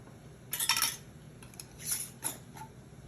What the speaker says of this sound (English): Screw it on with the lid